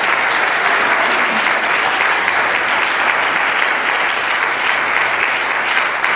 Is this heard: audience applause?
yes